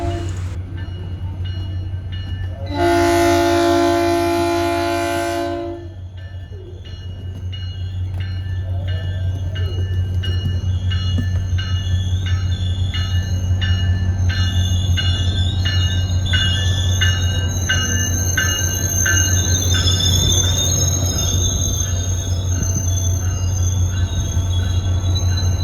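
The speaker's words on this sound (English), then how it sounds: "Here's our train, P315 with cab car" A loud horn blast sounds first, then a SunRail passenger train with cab car rolls steadily past up close, wheels squealing and clanking in a long continuous rumble.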